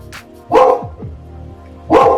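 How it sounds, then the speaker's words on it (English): A dog barks twice, sharp and close, with a pause between the barks and a low whine in the gap. "Stop barking!"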